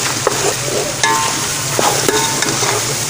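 A spoon stirs beef karahi in a hot pan just after ground black pepper goes in, giving steady sizzling and frying with a few sharp scrapes and knocks of the utensil against the pan, close and clear with no talk.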